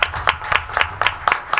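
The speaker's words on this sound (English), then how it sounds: "A round of applause." Audience applause at a board of trustees meeting: a short run of quick, evenly spaced hand claps at moderate loudness, heard close and with no talk over it.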